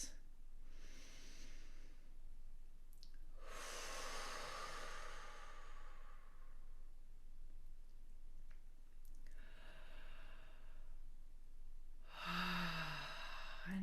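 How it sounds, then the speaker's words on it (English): Slow, deep breaths during a breathwork exercise: long audible inhales and exhales in a quiet room, several drawn-out cycles with pauses between, close and soft. "So let's just start with some good deep breaths"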